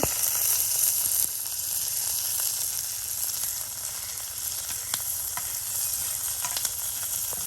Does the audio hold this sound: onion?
yes